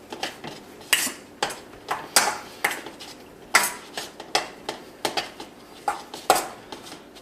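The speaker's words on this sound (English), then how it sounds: "I'm just going to keep stirring this, and what you want to do is incorporate everything well, and you want to get it into a ball." A spoon stirs a stiff dough in a pot with the heat off, working it into a ball: a steady rhythm of loud scraping knocks against the metal, roughly one or two per second, close and with no voices.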